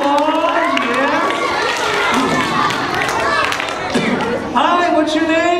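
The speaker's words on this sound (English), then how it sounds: "Come on up here, big round of applause, yes." An elementary-school audience at a magic show at Knowles Elementary claps and cheers as a child is called up on stage. A dense wash of crowd noise runs throughout, with voices calling out over it.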